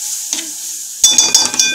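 A spoon stirs a vegetable soup base for rice soup in a pot, giving a few quick scraping strokes over a soft sizzle, close and fairly loud after a quieter start.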